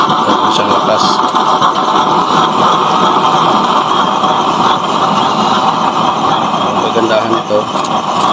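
A used-oil burner chamber running in LPG mode gives a steady, loud, broadband roar that holds constant throughout, with a voice talking over it.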